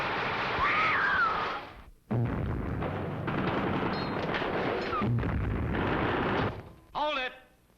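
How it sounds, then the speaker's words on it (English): Recorded war sound effects of gunfire and explosions play as a continuous dense roar of blasts and shots, broken by brief pauses, with a voice heard near the end. "All right, Eddie, turn off the war."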